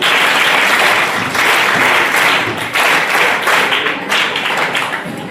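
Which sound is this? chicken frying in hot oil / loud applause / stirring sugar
loud applause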